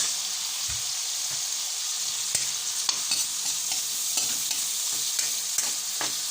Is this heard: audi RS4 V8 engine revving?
no